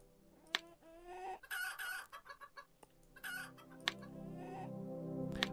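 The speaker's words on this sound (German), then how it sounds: "Da ist das stinkende Huhn." A chicken in Planet Centauri clucks in short repeated bursts and rising squawks, close and clear, alternating with brief pauses against a soft background.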